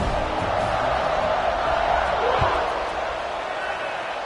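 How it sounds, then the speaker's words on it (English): Stadium crowd noise in the College Football 26 video game, a steady dense roar at a Penn State home game against North Carolina, with commentary voices talking over it. "this crowd now ready to get behind them"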